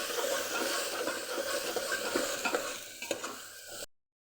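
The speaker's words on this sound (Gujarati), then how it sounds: "સ્વાદ મુજબ મીઠું અને બધું સરસ સાતડી લઈશું" Steady sizzling and stirring of red chili powder, salt and spices sautéing in a pan for tuvar dal khichdi, close and continuous, with faint scraping before it cuts off abruptly.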